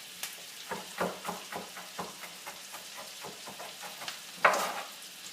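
Garlic and shallots frying in olive oil give a steady low sizzle broken by soft stirring taps and small clicks, with one louder hiss-burst near the end; no one talks.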